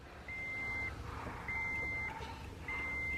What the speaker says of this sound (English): I hear a lot of beeping.